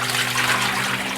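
Fresh water pours steadily over resin-coated photo paper during darkroom film processing, a dense continuous hiss and splash with a low hum beneath, alone and fairly close.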